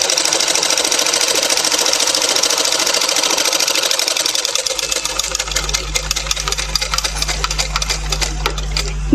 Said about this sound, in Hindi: पहले ये दोनों कपड़े बराबर मिला के हम सिलाई डाल देते हैं